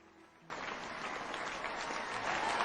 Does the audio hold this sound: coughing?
no